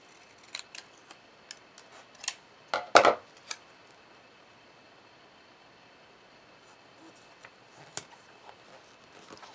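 Small scissors snipping planner sticker paper, a quiet series of brief crisp cuts with a few louder snips in the middle, close and alone.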